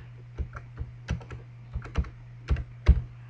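Team name typed on a computer keyboard, a series of crisp individual key clicks in an uneven rhythm, close and clear over a faint steady hum.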